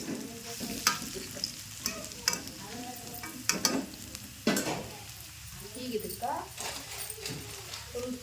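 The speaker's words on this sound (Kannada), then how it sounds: "ಉಳ್ಳಾಗಡ್ಡಿ ನೋಡ್ರಿ ಫುಲ್ಲು ಗೋಲ್ಡನ್ ಕಲರ್ ಫ್ರೈ ಆಗ್ಬೇಕು" Onions frying in a pan until golden for a quick flattened-rice snack, a moderate sizzle with spoon scrapes and stirring clatter, a voice talking over it.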